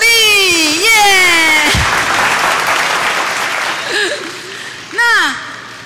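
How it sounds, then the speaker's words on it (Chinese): An audience applauds at an award ceremony for a Bible reading competition, a crowd clapping in the background while a voice speaks and sings over it through most of the stretch. "给他们掌声鼓励"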